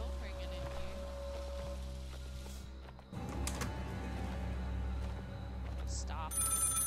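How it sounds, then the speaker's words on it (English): A telephone rings inside a building in the horror video game Maid of Sker, a steady repeated bell tone running under dim game ambience and a speaking voice. "There's a phone ringing in here."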